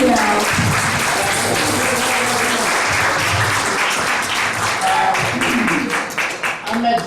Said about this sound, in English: let's applaud Al now, and if you really like the way he speaks, then you can applaud him again